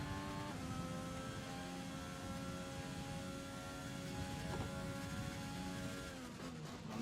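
Formula One race car engine in the F1 2020 video game, a steady high-pitched whine held at speed with clear harmonic tones, shifting pitch briefly near the start and dropping toward the end, fairly quiet with no talk.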